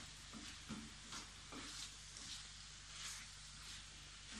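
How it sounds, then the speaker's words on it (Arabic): Pastilla filling of chicken, fish and vermicelli sautéing in a pan, a faint steady sizzle with soft scraping stirs at irregular intervals and no voices. "كيتشحروا هاد المكونات كلهم باش داك المذاق يتجانس مع بعضياتو."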